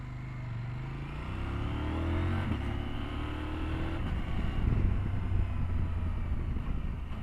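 A CF Moto 1000 MT-X motorcycle engine while riding, a loud steady drone that rises and falls in pitch as the throttle is worked, with wind rush over it.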